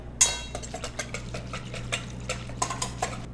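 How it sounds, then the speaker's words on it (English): A whisk clatters rapidly against a bowl, beating a thick vegan French toast batter with cinnamon and salt in quick, uneven metallic taps over a low background hum. "Then whisk it together."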